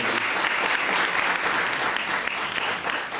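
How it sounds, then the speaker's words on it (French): Audience applause at a Haitian Creole cultural event, a dense, steady wash of clapping that carries evenly through the whole stretch without any voices over it. "Encore sur l'applaudissement."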